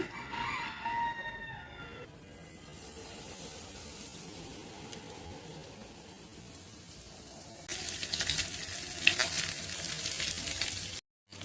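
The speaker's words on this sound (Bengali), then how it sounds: "ময়দায় যত বেশি কোট করা ততই কিসমি হবে এখন দেখে না আমি ভেজে নিচ্ছি" Flour-coated chicken pieces fry in hot oil with a steady, close sizzle that swells louder and busier near the end.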